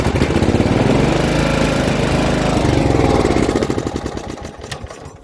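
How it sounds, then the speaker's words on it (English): A John Deere GX75 riding mower runs close by, its small engine chugging loudly and steadily before the throttle drops and the sound tapers off near the end. "it fired right back up and drove to where I need it"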